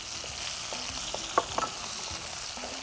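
Green chili and tomato sauté in a pan for a mutton dish, a quiet, even sizzle with a couple of brief spoon taps and stirring sounds.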